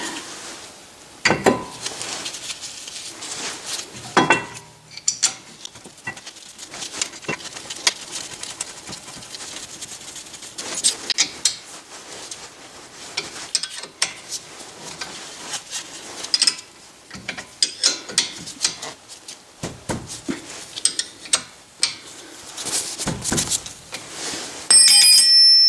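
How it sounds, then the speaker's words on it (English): Brake caliper on a CX-50 front axle bolted onto its slider without pads, a run of irregular metallic clicks, ratcheting and clanks of tools and parts, close and fairly clear. "Let me try putting the caliper back on to bolt into those sliders"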